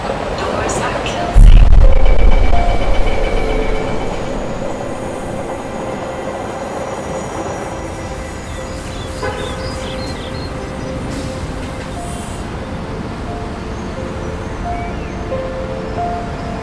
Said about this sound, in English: MRT, get a subway card, metro card, and then hop on the train.